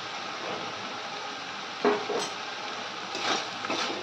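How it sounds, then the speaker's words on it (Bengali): Egg chicken fried rice being stirred in a pan with a spatula, a steady background hiss of cooking punctuated by a few distinct scraping and clinking strokes against the metal, close and moderately loud. "এবার ভালো করে মিশিয়ে নেব।"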